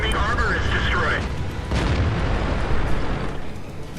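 An enemy tank blows up in a tank battle game, a loud booming blast with a rumbling tail, partly under a short burst of talk.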